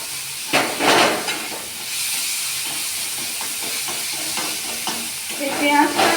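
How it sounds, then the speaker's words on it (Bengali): Grated onion and ginger frying in hot oil give a steady close sizzle and hiss, broken by scraping stir strokes and a louder burst near the end. "এই পেঁয়াজটা আমি এখন একটু ভাজা ভাজা করব।"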